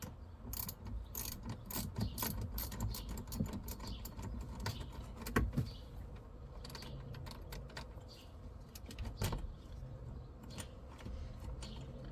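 A 10mm wrench loosens the negative battery terminal on a 2020-2026 Toyota Highlander, giving a run of close, crisp ratcheting clicks and metallic rattles in irregular bursts, with no talk.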